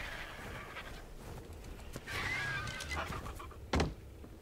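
A bird in the survival game Ark calls in short, scattered chirps and squawks over a low game backdrop, ending with a louder sharp burst near the close.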